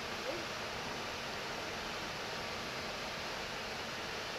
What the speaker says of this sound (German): Jetzt ist das Plätschern schon lauter als die Drohne.